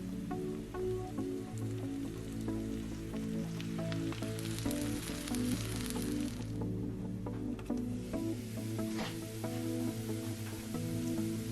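Marinara sauce bubbling and sizzling with turkey meatballs in a hot pan, a continuous close crackle and hiss with a few brief louder spatters, no voices.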